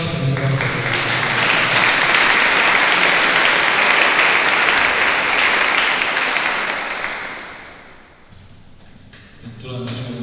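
Sustained crowd applause at a birthday party, loud and dense clapping for about eight seconds before fading, then a brief renewed burst at the end.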